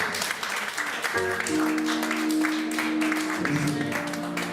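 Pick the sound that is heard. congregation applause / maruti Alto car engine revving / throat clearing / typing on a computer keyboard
congregation applause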